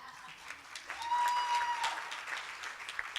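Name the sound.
audience applause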